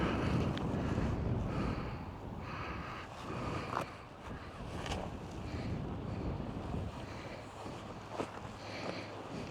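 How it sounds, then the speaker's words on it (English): Breezy wind outdoors at a grassy roadside viewpoint, blowing across the microphone as a fairly faint, uneven rushing buffet that swells and eases over several seconds, with no talking. "It's a little breezy out here."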